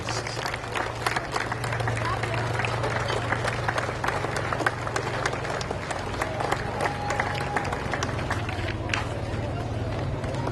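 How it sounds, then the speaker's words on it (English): A parade crowd claps and cheers for veterans and veterans organizations at an Oktemberfest parade, with steady outdoor applause and crowd murmur running throughout, plus scattered voices in the background. "Again, a nice round of applause for all of our veterans and veterans organizations."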